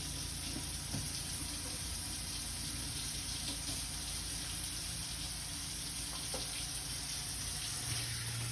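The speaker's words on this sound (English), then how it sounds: "Okay, so I've gotta wash my hands first before I start." Water runs steadily from a tap into a sink during handwashing, a constant close hiss of flow with faint clinks and splashes, no talking.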